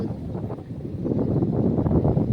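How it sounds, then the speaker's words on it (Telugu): Wind blows outdoors beside a tall coconut tree, a loud, close rumbling gust buffeting the microphone that strengthens toward the end, with no voices. "గాలి అంతా చాలా బాగా వస్తుంది"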